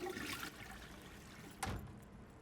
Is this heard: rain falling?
no